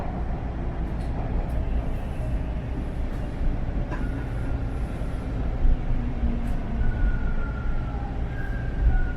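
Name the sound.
Toronto subway train arriving at Bathurst Station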